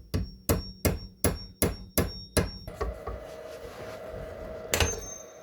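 Seven sharp metallic hammer blows in an even rhythm driving a driveshaft dogbone pin, followed by quieter shuffling and one last strike, close and clear.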